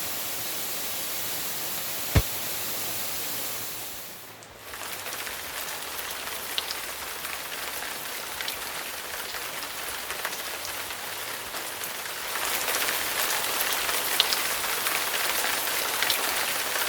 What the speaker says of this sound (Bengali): খুব জোরে বাইরে বৃষ্টি হচ্ছে।